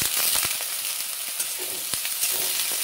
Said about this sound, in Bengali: এবার আমি এই বেগুনটা ছেড়ে দিচ্ছি। বেগুনটা আগে ভেজে তুলে নেব